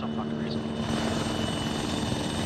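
A nearby helicopter's engine and rotors drone loudly and steadily while a person talks briefly over the noise.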